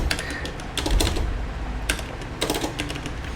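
A command being typed on a computer keyboard during an Arch Linux install, quick bursts of close key clicks with short pauses between them, alone and clear.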